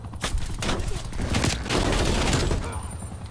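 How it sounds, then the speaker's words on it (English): Rapid gunfire in the shooter game Black Ops Cold War, loud and continuous, with dense overlapping shots and booms throughout. "Who's shooting me in the back?"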